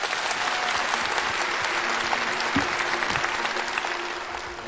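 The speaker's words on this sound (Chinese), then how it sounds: "掌声有请" Audience applause at a televised pitch competition, dense steady clapping from a large crowd lasting throughout and tapering slightly at the end.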